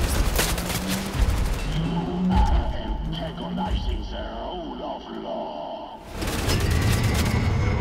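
Gunfire and laser weapons in Wolfenstein: The New Order, with sustained rattling bursts and sharp blasts over a humming drone, loud and close, and a voice talking over part of it.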